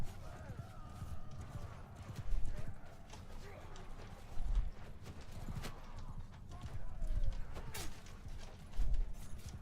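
Horse archers' hooves clip-clop across the battlefield in a medieval strategy video game, with a steady, busy patter of many horses at mid-distance. Occasional whinnies and clanks sound over low ambient noise.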